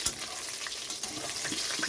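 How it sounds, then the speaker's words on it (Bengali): Catla fish frying in a pan, a steady, close crackle of hot oil that holds even throughout the short stretch with no voices. "এখানে কাতলা মাছটা ভাজা হচ্ছে"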